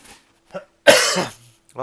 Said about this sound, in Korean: 계속 기침이 나오는데 이거 코로나 아닌가 모르겠어요.